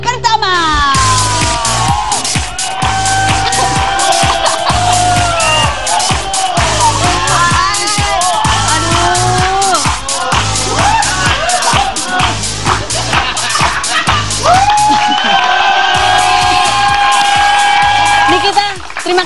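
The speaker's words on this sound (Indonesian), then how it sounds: "Tepuk tangan buat tamu saya yang pertama." A studio audience bursts into loud, sustained applause with cheers and whoops for the first guest on an Indonesian TV talk show, the clapping dense and continuous throughout while a host's voice rises over it.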